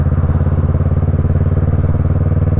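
A motorcycle engine runs close and loud with a steady throbbing pulse, a continuous low rumble with no voices over it.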